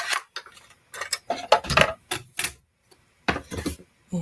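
A cardstock banner feeds through a manual die cutting machine during cardmaking, giving a close series of irregular clacking and ticking bursts with short pauses between them and no one speaking.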